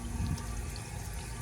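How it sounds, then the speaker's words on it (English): A 1959 American Standard one-piece toilet tank fills with water, giving a steady, faint rushing hiss of running water with no talking. "I may just wait for the tank to fill and then I'll retest it"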